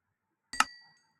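Glass tumblers clink together in a single sharp, bright strike that rings briefly and decays, heard close and alone against silence.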